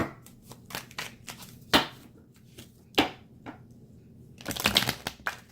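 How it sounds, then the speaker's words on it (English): Cards being shuffled in a series of sharp riffling bursts, with quick flutters and snaps separated by short quiet pauses. "Let me do one more shuffle."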